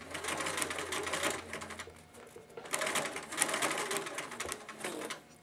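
A sewing machine stitches a rolled hem on fabric for a DIY tarp, running in two steady bursts of rapid whirring with a brief slowdown between them, close and alone.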